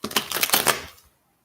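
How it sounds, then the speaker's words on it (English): A deck of cards is shuffled in one quick, rattling riffle lasting about a second, close and fairly loud, then stops into silence. "Trying not to shuffle this in the wrong way."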